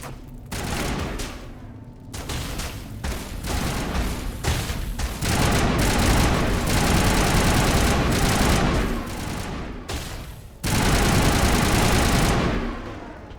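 Loud, sustained automatic gunfire from the video game Mass Effect, with repeated bursts of rapid shots and short pauses between volleys, blended with heavy battle noise and booms.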